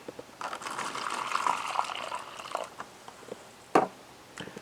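Hot water pours into a freeze-dried Mongolian beef meal pouch in a mylar bag, a quiet steady trickle for a couple of seconds followed by a brief louder splash.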